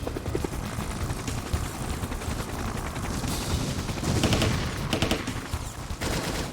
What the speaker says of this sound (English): The PRA troops quickly repositioned themselves and continued firing.